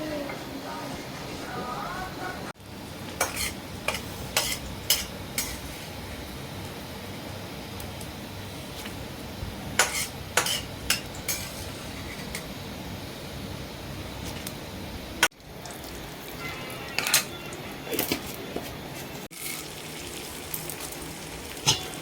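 Pumpkin seeds roasting in a pan give a light, crackly patter like raindrops, with clusters of sharper pops and stirring scrapes, close and moderately loud, with a brief cut in the sound partway through.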